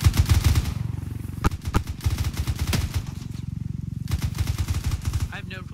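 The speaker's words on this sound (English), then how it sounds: "I have no clue what Shroud is firing at" Rapid, loud rifle and machine gun fire from an ArmA 3 firefight rattles almost without pause, with close, sharp shots standing out, and a voice speaks under the fire.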